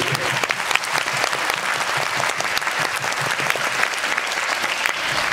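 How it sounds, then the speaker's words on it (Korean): Audience applause at a film festival screening Q&A for the Korean film Kokdu: A Story of Guardian Angels, steady dense clapping filling the hall at even loudness throughout. "큰 박수 부탁드립니다"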